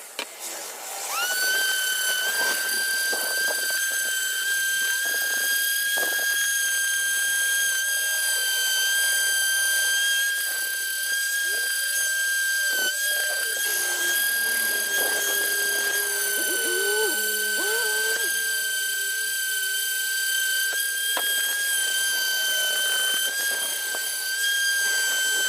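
An electric sander grinds steadily on a homemade shift knob for an EF Honda Civic sedan, giving off a constant high motor whine with faint scraping variations underneath that runs unbroken for the whole stretch.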